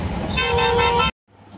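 Horn toots blare loudly through traffic while riding in an auto rickshaw on the way to a wedding haldi ceremony in Dharashiv, a sustained honk cutting off abruptly, followed by quieter road noise.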